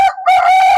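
Newly hatched native country chicken chicks cheep in a steady, loud, high-pitched chorus close by, with one brief dip before the calls resume.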